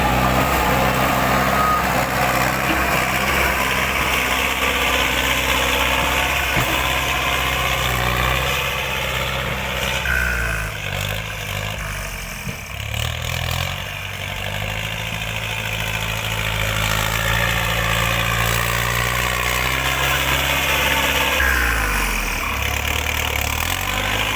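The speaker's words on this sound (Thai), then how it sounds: "ข้างหลังนี่เป็นรถไถข้างหน้านี่เป็นรถเกต" A heavy diesel tractor engine runs steadily and loudly throughout, with a deep rumbling idle that dips briefly in the middle before returning to full strength.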